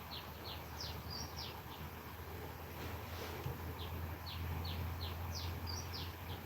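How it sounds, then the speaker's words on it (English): Birds singing outside on a Saturday morning in a village, with repeated short high chirps in scattered bursts at moderate distance over a steady wind-like hiss and low hum. "You can hear the birds singing from outside."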